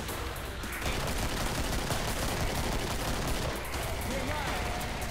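Rapid gunfire from zombie-shooter video game Killing Floor, set in a Santa's workshop level, with bursts of shots layered over dense, loud game noise and faint talk.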